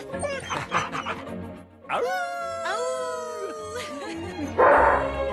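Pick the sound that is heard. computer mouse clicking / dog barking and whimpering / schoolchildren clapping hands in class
dog barking and whimpering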